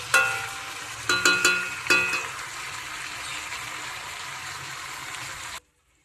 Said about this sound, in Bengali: এবারে ভালোভাবে এটা কষিয়ে নেবো মশলার সাথে আলু।